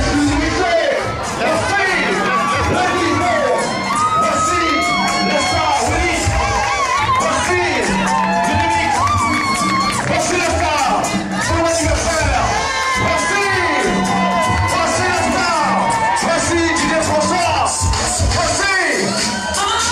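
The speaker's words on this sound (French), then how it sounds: "Est-ce qu'on peut l'applaudir, s'il vous plaît?" A festive diaspora night-event crowd cheers, whoops and chatters loudly, with children shouting and excited voices overlapping in a dense, continuous hubbub throughout.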